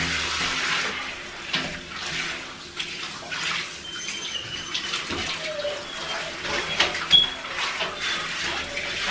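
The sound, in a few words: water running while rinsing a Great Dane puppy in a bathtub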